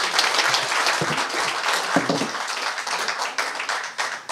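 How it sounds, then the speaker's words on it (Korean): An audience claps together at a Korean community association's inauguration ceremony in Los Angeles, a sustained, dense round of applause from a crowd that stays fairly even throughout with a few louder claps near the middle. "박수 부탁드립니다"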